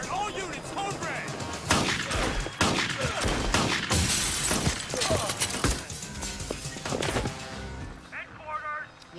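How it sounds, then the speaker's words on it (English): Gunfire in a movie scene, a rapid series of loud sharp shots and crashes mixed with shouting voices. "All right, shots fired! Shots fired!"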